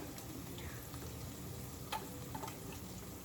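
Spices hitting hot oil in a kadai while kadai paneer cooks, a low, even sizzle with a few faint clicks of a spoon, fairly quiet.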